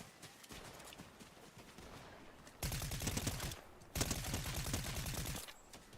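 Rapid tapped gunfire from a weapon in Fortnite, two loud bursts of quick, evenly spaced shots, each lasting over a second, following a quieter stretch of game noise.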